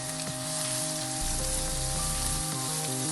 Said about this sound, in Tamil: வெங்காயம் நல்லா கொஞ்சம் வதங்கட்டும், பச்சை வாசனைலாம் போகட்டும், வதக்கிக்கலாம்.